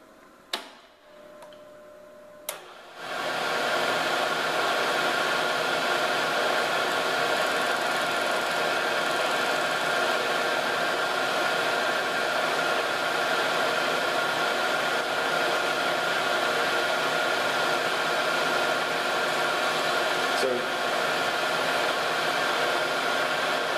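After a couple of small clicks, a milling machine spindle fitted with an edge finder spins up and runs with a steady, loud whirring hum that continues unbroken to the end.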